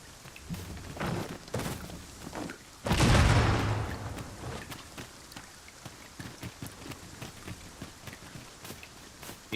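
Steady rain pattering across an outdoor scene in Dragon's Dogma 2, with a dense patch of drops and a low rumble near the three-second mark, then softer, scattered drips continuing alone.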